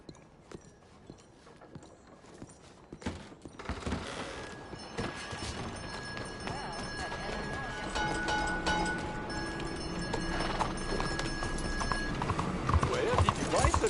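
Horse hooves clip-clop, with an occasional whinny, in a PS4 video game, growing busier and louder after a quieter start. Game voices and background music play over the hooves.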